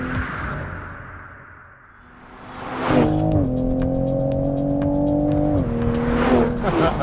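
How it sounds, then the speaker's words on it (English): A 2020 Toyota Supra drives hard around a race track, its engine loud and droning as it rises and shifts pitch, with sharp crackling pops and bangs on the downshifts and a brief tire squeal. "it does pops and bangs in the downshifts. I love the sound of that engine"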